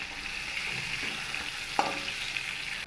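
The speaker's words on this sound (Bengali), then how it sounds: "পটলগুলো কিন্তু আমার এরই মধ্যে খুব ভালো করেই ভাজা হয়ে গেছে" Pointed gourd (potol) slices fry in oil with a gentle, continuous sizzle and a single sharp tap partway through, quiet and close with no talking.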